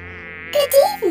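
A dragonfly's wings make a thin, high buzzing whir with fluttering harmonics, rising in bursts over a second, close and fairly loud.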